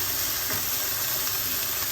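Chicken pieces browning in a hot pan give a steady, dense sizzle and hiss that runs without a break, fairly loud and close, with no voices.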